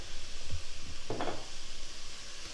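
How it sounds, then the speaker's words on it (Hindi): Hot chicken fried rice sizzles steadily in a pan as soy sauce and vinegar go in, with a brief louder hiss and a few utensil scrapes over a constant frying crackle. "और 1 टीस्पून डालूंगी इसमें सोया सॉस का।"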